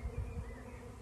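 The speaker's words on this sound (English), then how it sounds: "I've got a bait hive up in the tree there. And I have a swarm moving in." A swarm of honeybees moving into a bait hive up in a tree on a sunny day in Hampshire, heard as a steady, close, low buzzing drone with no talking.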